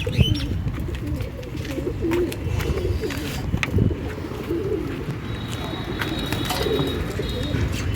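Several pigeons coo in low, repeated calls at close range, with rustling and flutter around them and occasional chirps in hot weather.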